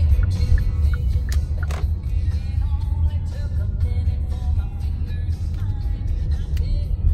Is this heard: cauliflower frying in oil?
no